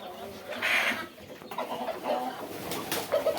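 Tiger breed chickens on a farm cluck and call in short bursts, faint to moderate with other bird sounds around and some background voices.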